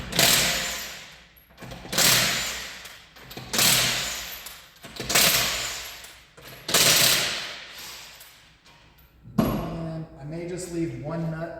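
An impact gun removes lug nuts from the wheels of a 2022 Corolla in five loud rattling bursts about every one and a half seconds, followed by metallic clinks as nuts are handled.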